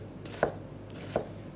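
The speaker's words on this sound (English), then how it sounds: "Slicing towards the root. And then just down." A knife slices down through a vegetable toward the root on a cutting board: two crisp, close chopping strokes less than a second apart over a quiet kitchen background.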